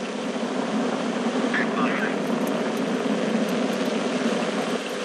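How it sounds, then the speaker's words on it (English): A Soyuz rocket's engines roar at liftoff on the launch of the uncrewed Soyuz MS-14 spacecraft, a dense, steady broadband rumble heard from a distance, with a commentator talking over it. "Turbo pumps up to flight speed and liftoff."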